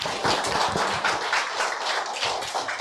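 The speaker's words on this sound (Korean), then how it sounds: "최죽사 선생님을 큰 박수로 맞이해 보겠습니다" An audience at a Korean book talk claps to welcome a guest, the author's wife: an even, continuous burst of applause from a modest crowd, close and moderately loud.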